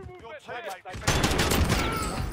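FAL rifle fire in Warzone, a rapid burst of about five shots following a brief stretch of talk, loud and close.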